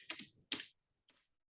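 Typing on a computer keyboard, heard as two short bursts of rapid key clicks and then a fainter third burst, close and alone with no talk.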